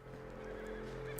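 A horse whinnies in the Red Dead Redemption 2 video game, one short, close neigh with a wavering tone, heard alone over a faint low background hum.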